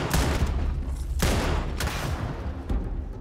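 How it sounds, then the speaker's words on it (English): Grenade blasts and gunfire in the sci-fi video game Starfield during an ambush, a dense barrage of loud bursts with sharp peaks near the start, middle and end. "Who's throwing those damn grenades?"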